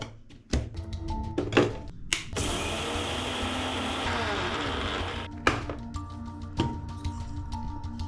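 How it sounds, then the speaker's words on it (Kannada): A kitchen mixer grinder runs for several seconds, blending cooled roasted wheat into powder with a loud, steady whirring roar, and short clunks and knocks from the jar before and after it. "ಈಗ ಈ ಮಿಕ್ಸರ್ ಜಾರಲ್ಲಿ ಹಾಕ್ಕೊಂಡು ಚೆನ್ನಾಗಿ ಬ್ಲೆಂಡ್ ಮಾಡೋಣ"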